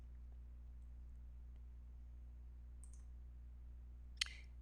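A single sharp mouse click on a Save button while working in security management software, brief and close against a faint steady electrical hum, with a couple of tiny softer ticks earlier.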